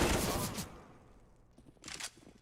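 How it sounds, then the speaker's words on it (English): AK rifle gunfire in the video game Counter-Strike, heard as a loud, dense burst of shots that fades, then a shorter second burst. "That's the AK getting to work."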